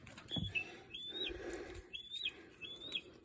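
Birds singing near blackberry bushes outdoors, faint thin whistled calls repeating three or four times over a quiet background rustle.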